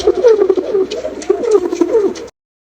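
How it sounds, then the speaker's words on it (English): Soft repeated coos from a pigeon, a short burst of rolling throaty calls heard up close, ending abruptly after about two seconds. "Pigeon."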